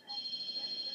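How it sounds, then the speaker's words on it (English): A telephone rings indoors during a live Sunday Q&A session, a steady, bright electronic tone held through the whole moment at moderate level, with faint room noise beneath. "Somebody get that phone."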